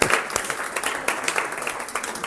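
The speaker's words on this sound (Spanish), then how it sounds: "Hoy vamos a dar un aplauso a mis alumnas" A classroom of students gets a burst of applause, a dense, steady patter of many hands clapping together, close and lively for a couple of seconds.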